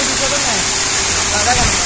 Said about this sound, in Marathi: करंजाडे हिल मधले अतिशय सुंदर आणि नयनरम्य असा धबधबा आहे